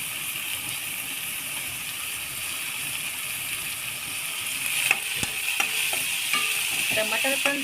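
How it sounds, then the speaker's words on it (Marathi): Tomatoes and onion frying in hot oil, giving a steady, loud sizzle throughout. In the closing seconds a spoon scrapes and clatters against the pan as the mixture is stirred. "टमाटर पण तेलामध्ये फ्राय करून घ्यायचं व्यवस्थित शिजेपर्यंत."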